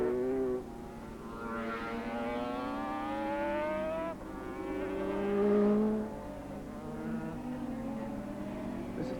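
A two-stroke Honda racing motorcycle engine screams during a 1983 race at Oran Park, its pitch climbing and dropping through the gears as it passes at moderate distance, with no speech.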